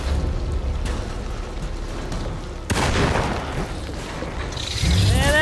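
Gunshots blasting at grasping vines in the 2024 Alone in the Dark video game: a sudden loud shot with booming tail midway, over a low ambient rumble, followed by another heavy impact near the end.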